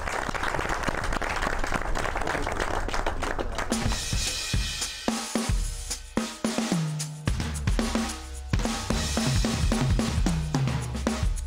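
Studio audience of a Pakistani TV comedy show clapping as a singer is introduced, steady clapping for the first few seconds before music with strong beats takes over and continues.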